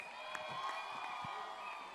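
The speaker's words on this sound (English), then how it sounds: "All right, everyone, big round of applause." A crowd at a student debate showcase gives a burst of applause and cheering, a steady wash of clapping with scattered whoops and shouts, held at an even level throughout.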